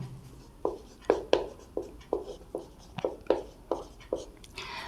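A pen writes by hand during a Class 12 maths lesson, giving rhythmic scratchy taps and strokes, fairly close and moderately quiet, with faint whispery breath in the background.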